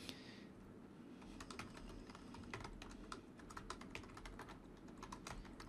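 Steady typing on a computer keyboard while filling out a California probate summons form, a continuous run of light, quick key clicks at moderate loudness with no talking.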